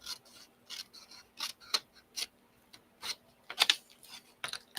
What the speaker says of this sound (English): So you just cut along the score marks.